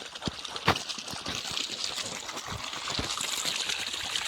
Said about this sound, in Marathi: आणि शेताला पाणी चालू आहे बघा कापसाला.